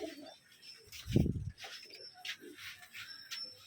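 Pigeons on a farm give soft, low cooing calls, one louder burst near the middle, with faint chirps and rustling around them, quiet and close.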